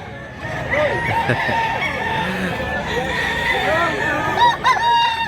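Several roosters crow and hens cluck in a noisy yard in Mantalungon, Cebu, the calls overlapping continuously, with faint voices in the background.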